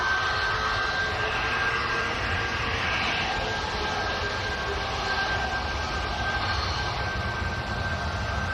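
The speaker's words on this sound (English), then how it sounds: "Air Transat's A330's coming out as well." An Air Transat Airbus A330 jet taxis at Manchester Airport, a steady broadband engine roar with a constant high whine, heard from a distance without talk.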